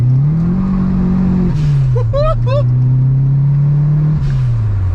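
A 2.0 turbo Ford Escort Series 1 heard from inside, its engine droning steadily and rising in pitch under acceleration, dropping briefly at a gear change, loud and continuous with a short tire or whistle chirp.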